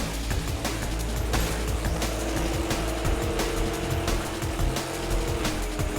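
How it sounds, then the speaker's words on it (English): Loud racing car engine from the PS4 game Table Top Racing World Tour, revving and shifting continuously, a dense roaring drone with rapid pitch changes and no talking. "getting a car that sounds like an actual car"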